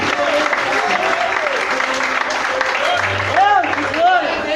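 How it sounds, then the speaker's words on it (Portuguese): Evangelical church congregation applauding in worship, steady clapping and cheering mixed with shouted voices and a preacher speaking over it, loud and continuous. "Aplaude a Jesus aí."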